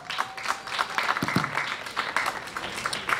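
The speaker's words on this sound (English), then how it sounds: "So give yourselves a round of applause." Scattered audience clapping at an outdoor music festival, a loose uneven patter of hands from a modest crowd at moderate volume with a few brief background sounds mixed in.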